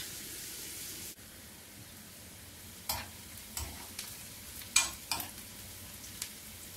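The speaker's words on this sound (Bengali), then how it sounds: "তা আমি হালকা গোল্ডেন কালার করে ভেজে নেব।" Onion and garlic fry to a light golden colour in a pan, giving a steady soft sizzle with occasional sharp scrapes of stirring spaced across the clip, alone without voices.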